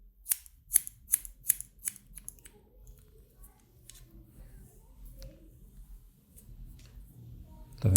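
Scissors snipping through long, large curly hair, a quick run of sharp close snips at first, then sparser cuts over a quiet background.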